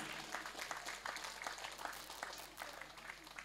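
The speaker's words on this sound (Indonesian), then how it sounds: "Bisa tepuk tangan sekali lagi." An audience at a Quran graduation ceremony for a Qur'an school applauds, a faint, steady patter of many hands clapping at a distance, with a low murmur beneath.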